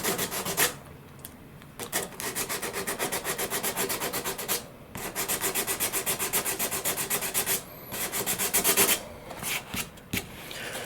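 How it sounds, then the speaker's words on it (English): Hand sanding of a composite RC sailplane wing tip, rapid rhythmic rasping strokes in long bursts separated by brief pauses, close and steady with no voices. "the sanding is complete"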